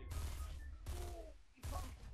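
Gunfire in Fortnite, three loud, sharp shots spaced roughly three-quarters of a second apart, each with a booming low end and ringing tail.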